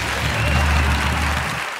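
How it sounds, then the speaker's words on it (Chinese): Audience applause on a Taiwanese entertainment TV show, a short dense burst of clapping from a studio crowd that cuts off abruptly at the end. "掌声鼓励。"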